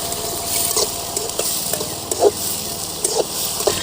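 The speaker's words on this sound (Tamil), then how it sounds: "நல்ல வெங்காயம் எண்ணெயிலையும் சிவக்க வணங்கணும்." Chopped large onions frying in oil in a pan for a mushroom gravy, with a steady close sizzle and light crackle and a few soft stirring scrapes, heard alone without talk.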